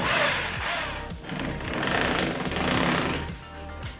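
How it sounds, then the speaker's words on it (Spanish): Power driver sinking a screw into a metal drywall stud: a buzzing, rattling burst that pulses for about four seconds, close and fairly loud, with no speech. "para fijarlo le ponemos un tornillo"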